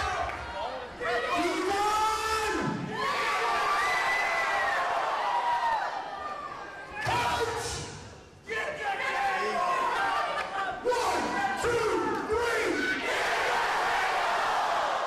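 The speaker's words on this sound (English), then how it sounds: "The crowd here in Virginia, They're asking for tables." A wrestling crowd in Virginia chants for tables during an NWA World Tag Team Championship match, rhythmic waves of voices filling the arena as commentators talk over them.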